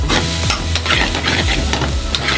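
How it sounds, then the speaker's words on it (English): Lamb pan-fried with chilies, paprika and spices in a Nepali kitchen, a loud close sizzle with quick rhythmic scraping stirs throughout, with no voices. "Everything just keeps being pan fried, stirred together, getting all that flavour and the spices all locked into that lamb"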